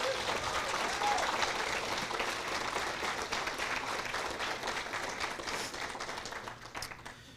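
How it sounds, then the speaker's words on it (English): A crowd applauds with sustained, dense clapping that holds steady and then tapers off toward the end. "can we please give the Equality House staff another round of applause?"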